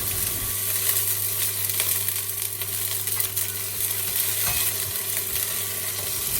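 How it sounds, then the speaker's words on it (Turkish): Garlic, onions and peppers sizzle and crackle steadily in a hot pan, with occasional scraping stirs, continuous and close, with no voices. "Biberler kavrulur."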